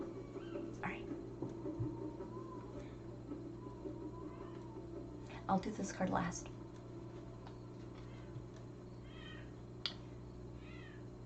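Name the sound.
cat meowing at night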